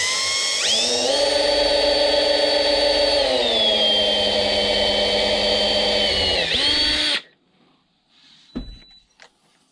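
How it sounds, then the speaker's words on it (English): A power drill bores into a hole in a battery tray being fitted to a HoBao VT RC car, a loud steady motor whine running about six seconds before cutting off, followed by a couple of faint clicks. "I'm gonna drill down into this hole right here"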